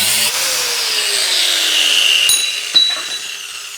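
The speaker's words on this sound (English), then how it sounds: "So I'm gonna have to cut like half of this bracket off so I can get the leaf spring out. I'm just gonna use a cutoff wheel for that." A cutoff wheel grinds through a steel leaf spring bracket on a 1999-2017 Chevrolet Silverado, a loud, steady high-pitched whine that drops in pitch as the wheel bites, ending with a couple of sharp clanks.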